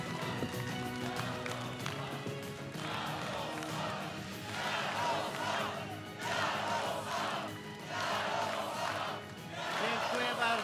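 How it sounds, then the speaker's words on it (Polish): A large crowd at a Polish political rally applauds and cheers as party leader Jarosław Kaczyński is welcomed on stage, loud sustained clapping and shouting swelling in several waves across the whole stretch. "Ogromne brawa."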